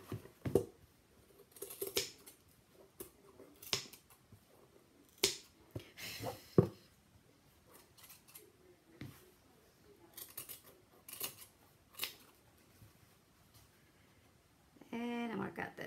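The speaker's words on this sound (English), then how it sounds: "And I'm gonna cut that piece right there." Sharp snips of scissors cutting paper come in irregular bursts, close to the listener, separated by quiet pauses and occasional handling noise.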